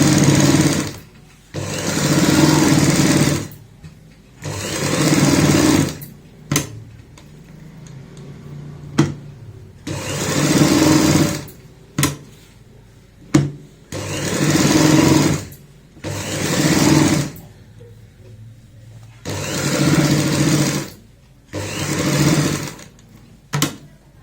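Sewing machine stitching fabric for a child's frock, loud close runs of rapid whirring in repeated bursts a few seconds long, separated by short pauses with clicks of fabric handling.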